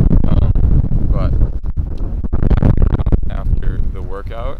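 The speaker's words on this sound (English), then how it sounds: "it's really fucking windy" Strong wind buffets the microphone outdoors in Las Vegas, making loud, rough low-end rumbling and gusty bursts. A person talks through it.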